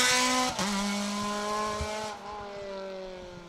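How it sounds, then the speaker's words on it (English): A Citroën C2 R2 rally car on a stage of the Jim Clark Rally tarmac event, engine screaming at full throttle and climbing through gear changes, loud and continuous with a brief dip at each shift. "Now you see why Matt Jackson would like a C2R2 just for the noise, because they do sound absolutely incredible"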